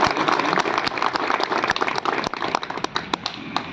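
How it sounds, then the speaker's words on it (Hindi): Loud, sustained applause from an audience honoring a police officer receiving the President's Police Medal for meritorious service in Hisar, with dense steady clapping and sharp individual claps throughout. "सबसे पहले मैं चाहूँगा कि एक बार हम जोरदार तालियां बजा करके"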